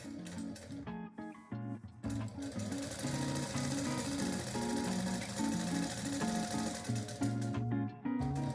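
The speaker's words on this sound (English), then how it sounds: "So now right side together and sew them together, just this upper edge first." A sewing machine stitches the upper edge of a tote bag, its fabric pieces placed right sides together, running steadily and close for most of the stretch with a couple of brief pauses.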